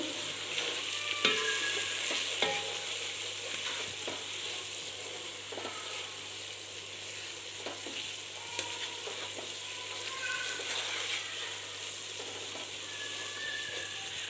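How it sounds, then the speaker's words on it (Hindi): Dry spices (chilli, coriander, turmeric, salt) stirred in a frying pan for a spiced cauliflower and potato dish, giving a steady close sizzle with irregular spoon scrapes and taps, no talking. "ये सारी चीज़ें ऐड कर देंगे और इसको अच्छी तरह मिक्स कर लेंगे।"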